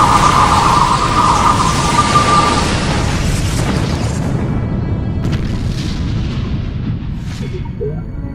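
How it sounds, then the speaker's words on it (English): A massive explosion in the space strategy game Sins of a Solar Empire booms loudly and rumbles on for several seconds, with a higher crackle at first, then a long low roar that slowly tails off. "And that was a massive explosion."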